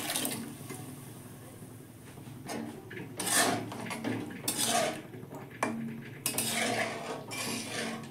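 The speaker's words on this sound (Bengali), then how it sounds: "তো এবারে আমি ডালটা ঢেলে দিলাম।" Lentils poured into a pan of sautéed gourd greens: a wet splashing pour with metallic clinks of utensil against pan, coming in bursts close up, with no talk.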